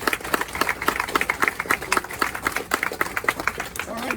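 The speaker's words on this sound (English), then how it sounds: "I'd like to have a large round of applause for our coaches" Crowd applause for the coaches at the end of a college tennis recruiting panel during a national championship: crisp, distinct claps ring out close and fairly loud, forming a lively, uneven patter that carries on for several seconds.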